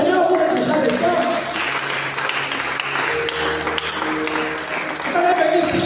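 Church congregation applauding and cheering in praise of the Lord, a dense, loud, sustained wall of clapping and voices that swells and dips slightly over several seconds.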